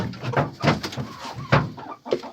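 Chickens cluck close by in short, uneven bursts, several calls overlapping over a couple of seconds.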